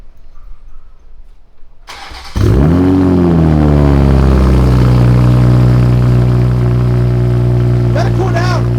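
Toyota Supra with an HKS blow-off valve and RK titanium catless downpipe exhaust cranks and fires up suddenly, settling into a loud, deep, steady idle close by, with a brief quieter spell of talk before the start.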